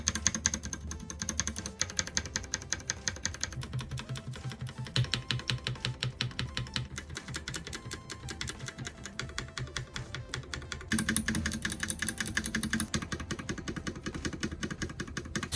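Rapid, steady keystrokes clatter on a Monsgeek MG75 mechanical keyboard with stabilizers, faint and close, with thocky key presses continuing throughout and a slightly brighter sound in the final stretch.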